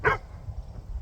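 A single short yelp or bark from a pet puppy outdoors in a garden, loud and close, followed by about a second of quiet low rumbling background.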